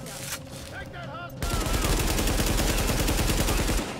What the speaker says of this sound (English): I can't even see who I'm really shooting at.